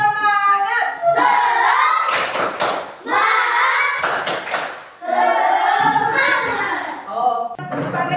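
A group does an Indonesian spirit clap, 'tepuk semangat', in bursts of quick rhythmic hand claps, alternating with children chanting together.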